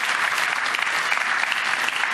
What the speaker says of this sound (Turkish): Bir alkış şöyle orkestraya.